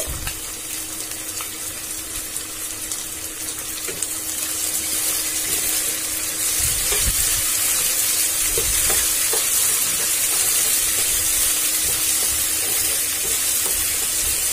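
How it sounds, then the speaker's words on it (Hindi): Finely chopped tomato frying with brinjal and potato in a pan for a dhaba-style sabji, with a loud, steady sizzle and the scrape of stirring that continue throughout and build slightly partway through. "उसके बाद इसमें हम एक कटी हुई टमाटर डालेंगे जिसको मैंने बारीक काट लिया है इसे भी मिला देंगे"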